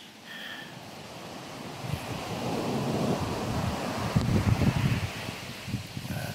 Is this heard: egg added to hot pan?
no